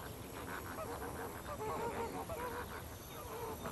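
A large flock of lesser flamingos at a lake calls continuously, a dense honking, goose-like chatter of many overlapping voices at steady loudness with no clear gaps.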